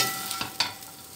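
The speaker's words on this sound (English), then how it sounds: "now I'm going to put the fried tokwa" Fried tofu (tokwa) sizzling as it goes into a pan alongside bell pepper, a short, soft frying hiss with a couple of small clatters from stirring, close and fairly quiet.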